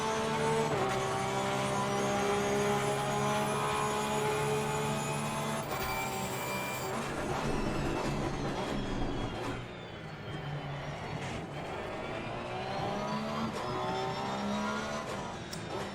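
A Porsche GT3R race car engine in an Assetto Corsa Competizione night race at the Nürburgring, roaring continuously at high revs with shifting pitch as it accelerates, lifts and brakes through corners, loud and close throughout.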